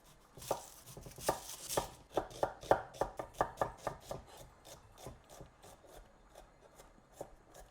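A knife chops onions on a board in rapid, close, rhythmic strikes that thin out toward the end, with no one talking.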